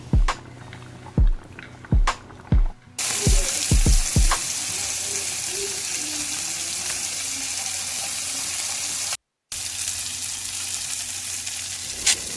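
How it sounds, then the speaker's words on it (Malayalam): Sardine mango curry cooking in a pot, a few sharp knocks and clatters at the start, then a steady bubbling sizzle that runs on with a brief cut near the end. "നമ്മുടെ മത്തി മാങ്ങക്കറി ഇങ്ങനെ തിളച്ചുകൊണ്ടിരിക്കുന്നു,"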